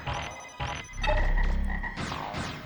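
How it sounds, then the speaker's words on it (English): Frogs croak in the video game Megaman Legends 2, a few loud, close calls in short bursts with game sounds in between, and no voices. "Got more of these frogs as I'm coming through here."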